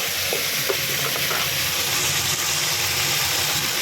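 Green peas fry in hot oil for a Bengali shukto, with a loud, dense, continuous sizzle and faint clinks of stirring running through it.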